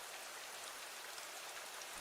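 A rain sound effect plays as a soft, steady hiss of falling raindrops, continuous and even with no voices over it.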